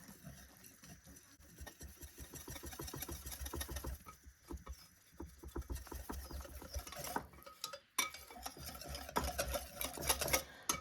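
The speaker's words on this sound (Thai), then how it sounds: "เราก็คนให้ส่วนผสมทั้งหมดเข้ากันดี" A whisk or spoon stirs dorayaki batter made from ready-made pancake mix and milk in a bowl, producing a quick, rhythmic clicking and sloshing patter that goes on throughout at close range.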